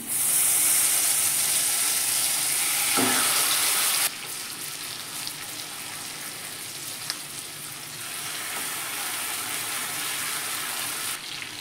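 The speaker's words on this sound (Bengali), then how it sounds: "তেলটা গরম হয়ে গেছে, তেল এবং বাটার। গ্যাসটা মিডিয়াম করে দিলাম, মিডিয়াম করে দিয়ে ভেজে নেব।" Pieces of chicken weighing 250-300 grams fry in hot oil and butter over medium heat with a constant bright hiss, loudest at first, then settling into a steadier sizzle with occasional faint clicks.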